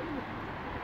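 A pigeon coos inside a pigeon coop, a brief low call close by, over a constant noisy background.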